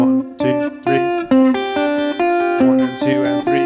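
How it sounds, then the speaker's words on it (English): Electric guitar plays a blues sextuplet rhythm, with quick triplet-grouped notes under a ringing pedal tone on top. The picking is steady, close and moderately loud, with a slightly effected tone and no talking. "That's the sound of a sextuplet."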